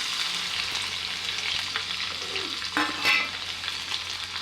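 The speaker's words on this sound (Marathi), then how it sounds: "तेल तापले की टाकूया जिरे थोडीशी मोहरी आणि हा दरदरीत लसूण असा कुटून घेतलेला आहे" Cumin, mustard seeds and coarsely crushed garlic crackle and sizzle steadily in hot oil, a close, continuous frying hiss with small pops and a brief stirring clatter, no voices.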